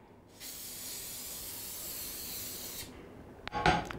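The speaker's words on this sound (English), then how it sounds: "I'll just spray some cooking oil spray in it" Cooking oil spray hisses steadily from a can into a preheated pan for about two and a half seconds, followed by a few light clatters of the pan.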